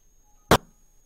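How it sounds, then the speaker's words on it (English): A single short, sharp burst, a game explosion sound effect for a side-scrolling shoot 'em up, sounds once, loud and dry, and is gone in a fraction of a second against near silence. "so there's my explosion"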